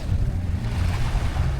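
Ocean waves wash in at a beach in Oriental Mindoro, a close, steady surf rush blended with wind buffeting the microphone, lasting under two seconds with no voices.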